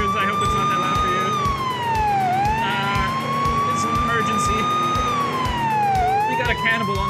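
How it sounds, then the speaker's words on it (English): A police car siren in a police simulator video game wails loudly and continuously, its pitch sweeping up and down in slow cycles, with a rapid mechanical pulsing beneath it throughout. "The siren's loud in my ears."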